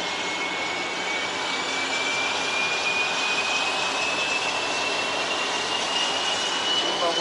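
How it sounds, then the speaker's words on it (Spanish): Steady broadband roar of a jet aircraft engine, heard from inside or close by, with a faint rising whine running through it, constant and fairly loud for the whole stretch. "Es un jet."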